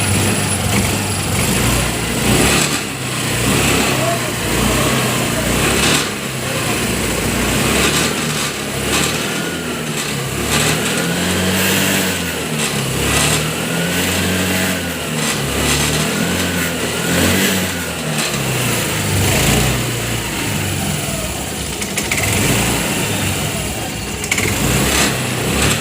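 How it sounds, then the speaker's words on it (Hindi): Honda Activa 125 scooter engine just refitted after a piston change, starting and revving loud and close for a long stretch, rising and falling with throttle over a steady engine drone, no talking. "सो गाइस अभी हम इसको स्टार्ट करेंगे, तो आइए देखते हैं इसका साउंड कैसा आता"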